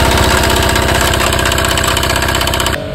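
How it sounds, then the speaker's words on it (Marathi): A Bajaj Boxer motorcycle engine runs after reassembly and connecting rod repair, a loud, close, rapid steady idle with even mechanical pulsing, dropping off abruptly just before the end. "बॉक्सरचे इंजिन असेंबल झालेले आहे, स्टार्ट झालेले आहे।"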